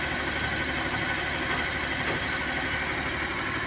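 A car engine idles smoothly with no shaking, a steady even rumble heard close and continuous throughout, with no voices over it.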